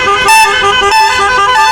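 A loud, close vehicle horn sounds at a hairpin bend on a Karnataka ghat road, one sustained honk with a brief stronger burst partway through.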